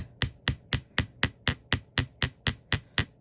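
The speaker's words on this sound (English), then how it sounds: "you need a bench block and a hammer. So you keep it and just hammer it." Hammer striking jewelry wire laid on a steel bench block, a steady run of about thirteen sharp metallic taps at even half-second intervals, close and clear with no talking.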